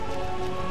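Steady rain in Final Fantasy IX pours as a dense, even hiss, blended with sustained musical tones, loud and continuous with no voices.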